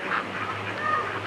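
Ducks quack in a short burst of nasal calls, close and moderately loud over a steady low hum, with no clear talk over them.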